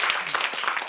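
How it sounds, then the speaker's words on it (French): A brief stretch of steady applause from a group, with many hands clapping at once. "allez, on vous applaudit"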